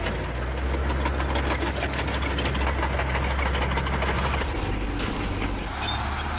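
A German StuG III tank's heavy engine idles close by, a steady low rumbling throb with a mechanical knock, running unbroken throughout.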